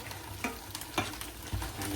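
Curry gravy for paneer curry sizzles quietly in a pan while a spoon stirs it, soft steady frying hiss broken by a few scraping strokes.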